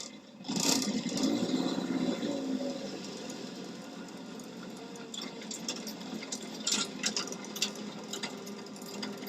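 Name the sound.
Land Rover Series 1 80 inch engine running while driving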